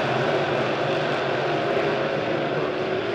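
USRA B-Modified dirt-track race cars roaring off the last turns three-wide at Springfield Raceway, a steady loud wall of engine drone with no break, heard from the stands.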